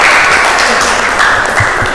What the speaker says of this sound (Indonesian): Beri tepuk tangan meriah buat